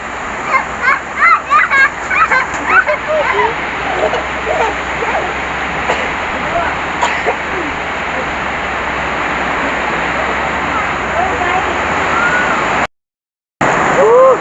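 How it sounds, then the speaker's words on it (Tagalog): Heavy rain roars steadily on a corrugated metal roof, a dense continuous hiss, with a person talking over it at the start. "Naririnig naman po siguro yung ulan sa yero."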